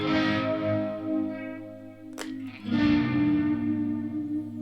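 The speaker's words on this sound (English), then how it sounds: "So you can hear the chorus is a whole different sound to it." Stratocaster electric guitar played through a chorus effect, sustained shimmering chords ringing alone with a brief pick scrape midway before the chords swell again, close and steady.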